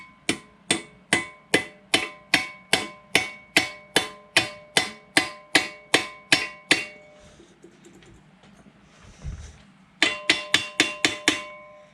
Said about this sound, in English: when you put a gib key in, don't hit the hell out of it. Just tap it in